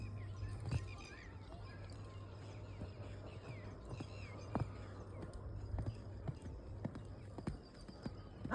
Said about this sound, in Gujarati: ઘોડો આવી ગયો છે